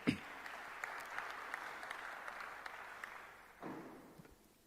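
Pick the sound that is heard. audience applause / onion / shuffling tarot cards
audience applause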